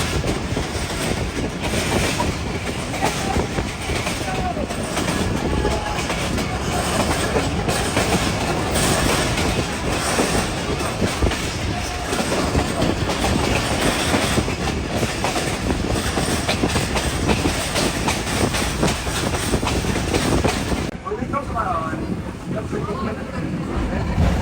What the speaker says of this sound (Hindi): मैं टेक्सला सिटी क्रॉस कर रहा हूँ, ट्रेन स्लो हो गई है